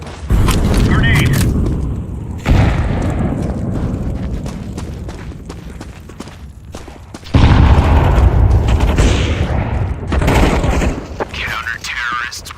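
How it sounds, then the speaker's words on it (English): Grenade explosions in a Counter-Strike 2 match, heavy booming blasts and gunfire bursts that swell, fade and return loudly, with a player talking over the action. "Grenade."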